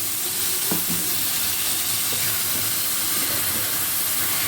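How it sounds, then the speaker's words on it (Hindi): Cabbage tossed into a pan of nearly cooked bottle gourd hisses and sizzles steadily over high heat, with a few faint stirring scrapes near the start and a continuous frying hiss throughout, no talking. "ये मैं बंद गोभी इसमें डाल रही हूँ।"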